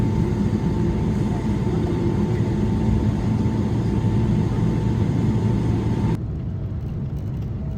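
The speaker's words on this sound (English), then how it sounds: "here we are taking off from Houston" An airliner takes off from Houston's airport, heard from inside the cabin as a loud, steady engine roar and rumble with a whine that drops abruptly toward the end.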